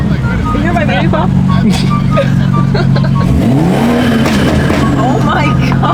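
A BMW G80 M3 CS in sport mode revs and accelerates, a loud, steady engine drone with rising pitch sweeps heard from inside the car during a late-night drive, with people talking over it.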